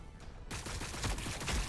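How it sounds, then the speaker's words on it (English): Rapid gunfire breaks out in the Warhammer 40K Battlesector game, a dense run of close, fast shots after a short quiet lead-in. "We are taking fire."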